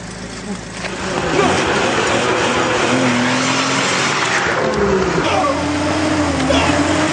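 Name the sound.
car driving at the speaker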